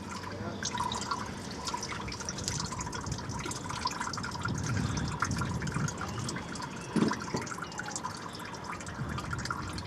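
Coolant gushes and drains from the cooling system of a 2007 Peugeot 207 1.4 petrol 16-valve being flushed after a blown head, a steady close splashing pour with faint dripping throughout.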